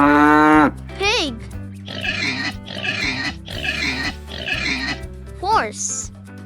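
A pig oinks and grunts in a rapid string of rough snorts, close and moderately loud, between quick whistling swoops and a soft musical bed.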